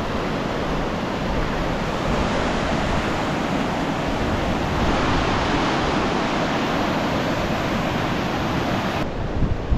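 A river rushes along a valley trail in Swedish Lapland, a dense, steady roar of flowing water that stays close and even from start to finish.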